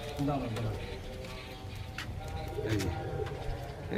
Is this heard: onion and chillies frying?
no